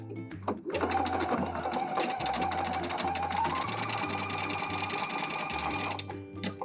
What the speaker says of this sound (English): Now I'm going to switch back to the zigzag stitch so I can finish that edge.